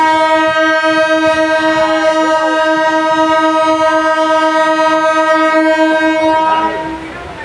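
A train on the route from Chandpara toward Bardhaman blasts a long, loud sustained horn close by as it departs, then the blare drops away near the end.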